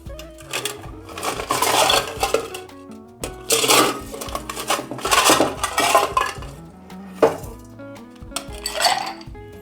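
Ice goes into a cocktail shaker for a mezcal and rum drink, cubes clinking and clattering against metal and glass in several bursts with brief pauses between them.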